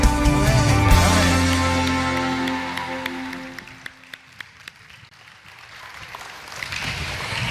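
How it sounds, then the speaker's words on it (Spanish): A church congregation claps loudly and densely while music still rings out, then the applause thins to scattered claps before swelling again toward the end. "Recibamos con un fuerte aplauso la palabra de Dios."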